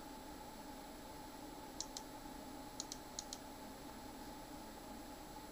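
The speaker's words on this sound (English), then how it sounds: "All you have to do is hit a letter on your keyboard, and it appears on your screen." A few sparse clicks of keys on a computer keyboard sound in a quiet room with a faint steady hum beneath, single taps and quick pairs spread over a couple of seconds with no talking.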